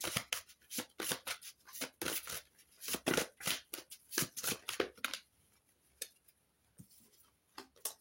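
Oracle cards are shuffled and drawn by hand: quick crisp riffles and slaps in irregular bursts, close and fairly quiet, thinning to a few isolated taps toward the end.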